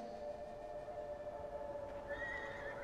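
A horse at a farm in the middle of the desert in the video game Beyond: Two Souls gives a faint, drawn-out whinny with a higher cry rising near the end, heard alone over quiet background.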